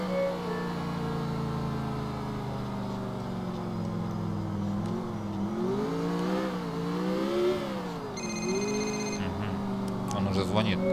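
In the video game GTA IV, a phone ringtone chimes briefly near the end over a steady car engine hum that rises and falls as the vehicle accelerates, with a voice talking throughout.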